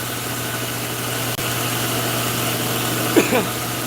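A belt grinder runs steadily while a knife guard for a reverse falchion is shaped, its motor giving an even, droning hum throughout, with a brief click and a faint squeak near the end.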